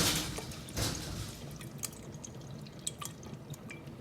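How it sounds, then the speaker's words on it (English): Coconut milk drips and trickles into a pot of Jamaican rice and peas, heard as faint, scattered liquid drips and splashes with no talking. "I'm gonna add 2 cups of coconut milk to it"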